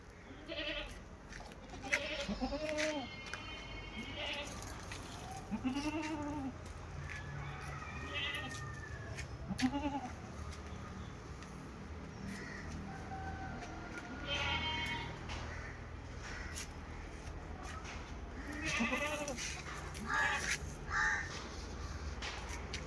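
A mother goat and her month-and-a-half-old female kid bleat several times at a livestock sale, with crows cawing and general outdoor noise around them.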